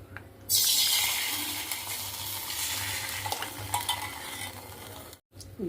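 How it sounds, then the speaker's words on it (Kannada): Mustard seeds, curry leaves and asafoetida hit hot oil for tempering with a sudden loud sizzle that crackles steadily, slowly easing off, with an occasional clink of a utensil. "ಒಗ್ಗರಣೆಗೆ ಸಾಸಿವಿ ಸಾಸಿವೆ ಕರಿಬೇವು ಇಂಗು ಹಾಕಿ ಮಾಡಿದ್ದು ಒಗ್ಗರಣೆ ಹಾಕ್ಲಿಕ್ಕತ್ತೀನಿ"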